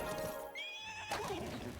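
A horse neighs in the fantasy strategy video game Heroes of Might and Magic: Olden Era, a loud, close whinny with a rising tremolo, trailed by hoof clip-clops.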